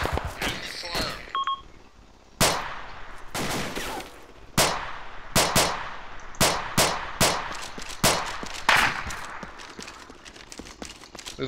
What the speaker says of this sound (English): Machine guns everywhere. Yep, fire across the field there.